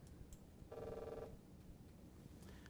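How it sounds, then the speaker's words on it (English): A cell phone message notification chimes once, a short tonal ring lasting about half a second that sits clearly above a steady low background hum. "I just got a message on my cell phone that fault was detected"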